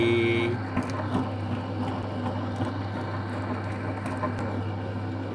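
A dough mixing machine kneads bread dough until smooth and elastic, giving a steady droning motor hum with faint irregular knocks and thumps throughout, close and continuous.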